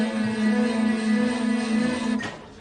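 Ukrainian military ground drone, a small tractor-like land vehicle, gives a steady electric motor hum with a sustained tonal whine that holds for about two seconds and then drops away, moderately faint and heard alone.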